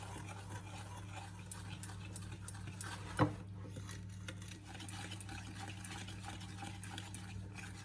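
Cocoa and coffee biscuit dough is mixed in a bowl, with faint, soft stirring scrapes over a steady low hum and one brief louder knock midway.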